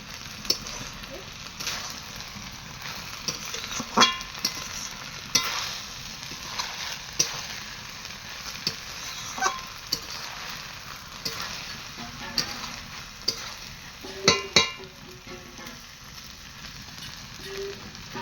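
Cashews and carrot fry in ghee in a pan, giving a continuous soft sizzle broken by occasional scraping clinks of stirring, heard up close at moderate volume, with faint voice in the background.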